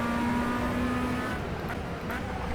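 Tatuus USF17 single-seater racing at Atlanta Motorsports Park in rFactor 2: a sustained engine whine drops off partway through, then comes back fainter and rougher with a couple of brief tyre or shift noises. No talking.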